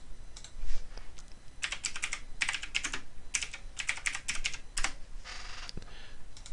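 Rapid clicking keystrokes on a computer keyboard, typed in quick irregular bursts with short pauses between them, close and fairly clear with no voices.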